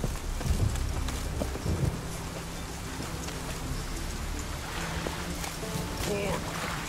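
Heavy rain pours steadily in The Witcher 3 video game, a dense continuous hiss with low rumbling underneath and a voice speaking faintly over it.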